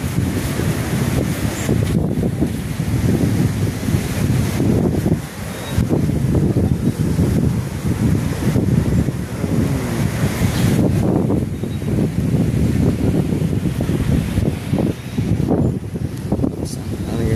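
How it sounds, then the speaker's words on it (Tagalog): Heavy wind buffets the microphone with a steady roar at the sea, and big waves churn below it; a person speaks at times over the gusts. "kung napapansin nyo, malakas ang hangin, malaki pa ang alon."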